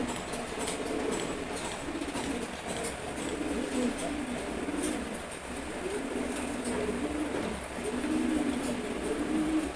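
Pigeons coo steadily nearby while eating grit, soft repeated throaty calls over a constant low background hum, with no talking.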